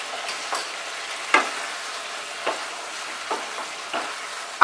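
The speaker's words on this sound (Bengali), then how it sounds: "আরো কিছুক্ষণ কষাতে হবে" Ridged gourd and potato stir-frying in poppy seed paste with oil, a steady hiss of frying broken by several soft spatula scrapes against the pan at irregular intervals; no speech.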